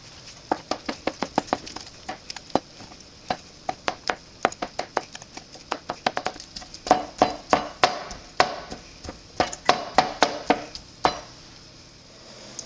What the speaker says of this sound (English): I'm gonna take the chicken out and put it on my cutting board. I'm probably just gonna cut it up into chunks instead of shredding it